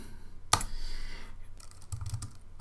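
A short burst of typing on a computer keyboard as a Linux terminal command is entered, with a sharp click at the start followed by a quick run of soft, close keystrokes.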